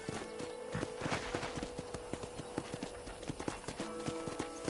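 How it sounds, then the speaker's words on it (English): Horse hooves clip-clop at a steady walking pace on a ranch in the video game Red Dead Redemption 2. The rhythmic, fairly quiet hoofbeats continue throughout against a soft outdoor ambience. "I picked out a fine horse for you."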